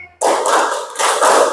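A classroom of students claps together in a rhythm game, a dense burst of many hands starting abruptly and continuing loud and sustained, with a brief dip before a second surge.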